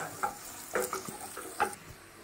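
Onions sizzle quietly in a pan for a Telugu-style prawn and gongura curry, with a soft frying hiss and a few light stirring scrapes, faint and close, no voices.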